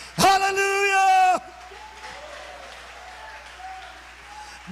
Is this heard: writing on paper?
no